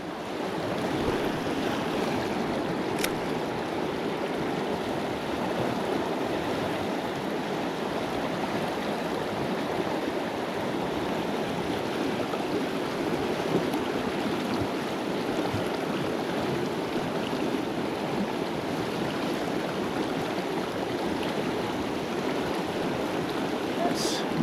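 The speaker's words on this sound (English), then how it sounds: "Whew, this water is moving fast." A fast-flowing, flooded trout stream in Pennsylvania rushes in a dense, unbroken roar that stays steady and close throughout.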